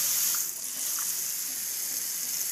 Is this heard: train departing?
no